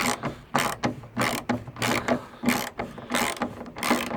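A socket ratchet clicks in quick repeated bursts as a bolt is worked loose on a Vauxhall Corsa D bumper, loud and close, with metallic rasping strokes and no talking.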